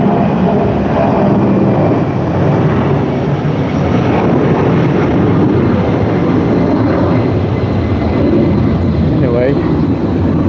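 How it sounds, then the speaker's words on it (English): A fixed-wing airplane takes off, its engine a steady, loud broadband roar that stays level throughout, heard outdoors near a gazebo with faint voices in the background. "So here's another plane taking off."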